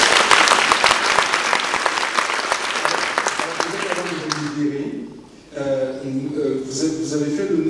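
An audience at a women's leadership forum in the European Parliament, Strasbourg, applauds a speaker with sustained, dense clapping that fades out after about four seconds, followed by a person speaking.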